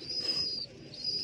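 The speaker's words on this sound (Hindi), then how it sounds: "ये जो कबूतर बैठा हुआ है ठीक है, बच्चे हैं इसके नीचे" A pigeon roosting over its chicks indoors gives soft, low cooing that stays steady through the short moment. A thin high tone runs alongside it, and nobody speaks.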